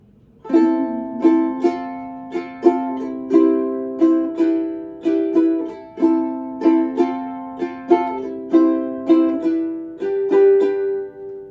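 Ukulele strummed in a lively four-beat island strum, repeated down-up strokes ringing out with a bright, steady pulse and no talking.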